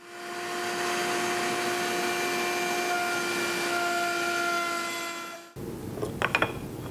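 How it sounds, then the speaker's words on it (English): A router on a router table whines at a steady high pitch with strong tonal harmonics as a spinning core box bit cuts a groove in wood, then cuts off abruptly, followed by a few short clicks and knocks. "we're going to drop it over the spinning core box bit and move it from one stop block to the other stop block on the router table"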